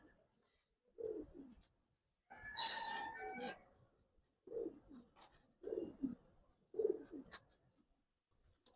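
Giribaz and khaki pigeons give several separate soft cooing phrases nearby, spaced a second or so apart, with one brief noisy rustling burst between them.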